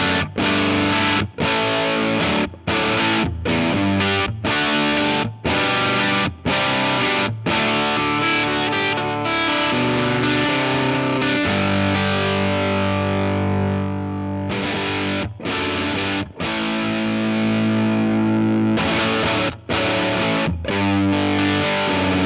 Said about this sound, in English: I think that's a really cool sort of germanium overdrive